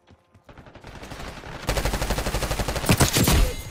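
Rapid automatic gunfire in a Call of Duty Black Ops 6 multiplayer match, starting with a few scattered shots and building into a dense, loud, sustained burst of overlapping rounds.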